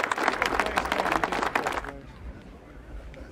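A crowd claps in a brisk burst for about two seconds, then fades into a quieter murmur of voices; the applause sits fairly close and dense.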